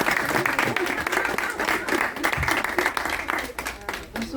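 An audience at an art exhibition in a chapel applauds steadily, with dense, sustained clapping across the whole stretch and a faint voice or two mixed in.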